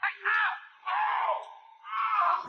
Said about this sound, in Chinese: 随后里面传来了阵阵惨叫。